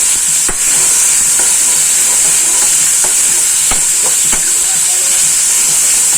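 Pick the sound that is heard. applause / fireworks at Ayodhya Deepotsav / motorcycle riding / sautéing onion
sautéing onion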